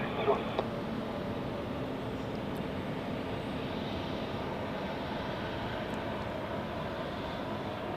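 An airliner taking off from runway 28 at Zurich Airport on an evening, a steady distant engine roar holding throughout, with a faint radio voice near the start.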